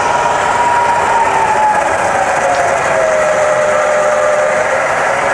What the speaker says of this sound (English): So firing up the variable speed head, we're in high range at the moment, and we're sitting at 1000 RPM.